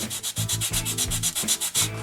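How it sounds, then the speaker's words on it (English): Rapid, rhythmic back-and-forth scrubbing of a sanding sponge against a 1/10 scale RC gas can model, quick even strokes repeating steadily, close up. "Try to get a sanding sponge"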